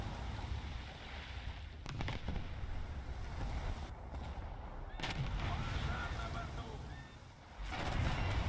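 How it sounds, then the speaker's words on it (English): Heavy booms from a warship's ammunition detonating in a War Thunder naval battle, several separate blasts spaced seconds apart over a constant low rumble of sea and engines, fairly distant and dull. "Okay, ammo explode. Yeah. Secondary ammos."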